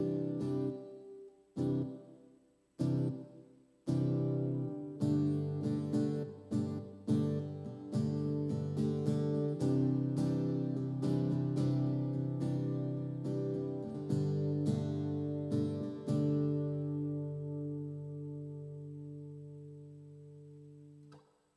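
An electric guitar played through a reverb effect on a Behringer X32 mixer with SuperRack, with plucked notes and chords that start sparse, grow busier, then hold a final chord whose reverb tail slowly fades, with no voice present.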